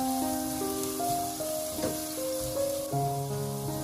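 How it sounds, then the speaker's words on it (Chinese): Minced ginger, garlic and chili stir-fried in a little hot oil over low heat, giving a soft, steady sizzle with faint stirring under sustained background tones. "把姜蒜末、小米辣放入锅中，开蒸小火，快速的翻炒"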